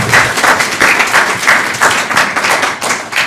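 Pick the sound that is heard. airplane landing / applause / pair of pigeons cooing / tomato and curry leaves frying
applause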